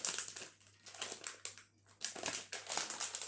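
Close, crisp crinkling of a small plastic CD bag being handled and opened, in irregular bursts with a brief pause in the middle.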